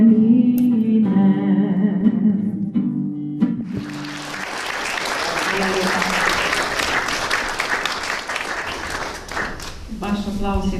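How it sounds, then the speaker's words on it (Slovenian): Audience applause at an international art colony event in Mokrice, a dense burst of clapping that swells and holds for several seconds, with a voice speaking before and after it. "Vaš aplavz je vse povedal"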